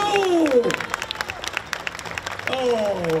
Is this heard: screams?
no